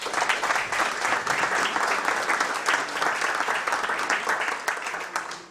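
A room of listeners at a National Heritage Week talk on local history breaks into steady applause, a dense patter of many hands that holds evenly before thinning out at the end.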